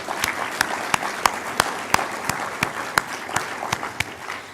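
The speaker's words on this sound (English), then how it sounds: "So I just want to give them a round of applause for everything they've done." An audience at a welcome gathering applauds in thanks, a close, even wash of clapping punctuated by sharp, regular individual claps throughout.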